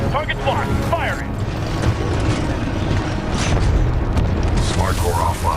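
Titan weapon fire in Titanfall 2, steady mechanical booms and clanks over a dense, continuous battle din, with an automated voice speaking throughout.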